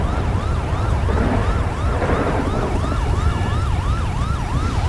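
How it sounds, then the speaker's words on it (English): A wailing ambulance siren in the video game LSPDFR cycles rapidly up and down in a steady, repeating pattern, loud and continuous with a low engine hum beneath. "I don't know why the siren's on, but not the lights."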